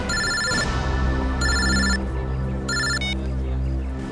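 A telephone rings in repeated electronic bursts, three bright trilling rings separated by short gaps over a steady low background hum.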